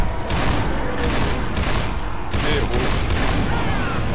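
Dense gunfire in the zombie shooter Left 4 Dead, a continuous loud barrage of rapid shots with rhythmic bursts, mixed with game noise and a player's voice under it.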